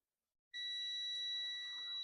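A multimeter's continuity tester beeps across a dead MOSFET on a Dell Latitude E5250 laptop logic board, a single steady, piercing electronic tone that starts suddenly after a moment of silence and holds on without a break.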